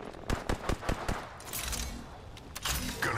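Rapid rifle shots in the battle royale shooter Apex Legends, a quick string of sharp cracks followed by more scattered fire, fairly close and loud.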